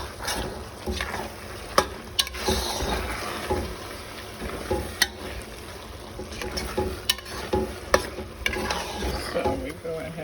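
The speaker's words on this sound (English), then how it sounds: "Go ahead and mix it all up in the sauce." A spoon stirs vegetable pasta sauce in a pot, with repeated scraping and clinking against the metal over a steady low sizzle of simmering sauce, close and continuous with occasional sharper knocks; no talking.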